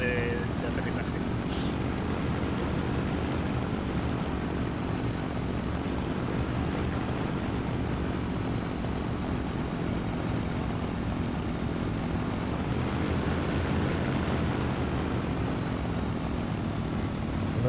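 Steady drone of a Ju 87 Stuka's propeller engine coming in to land in a flight game, a loud continuous roar with little change throughout, a voice faintly under it.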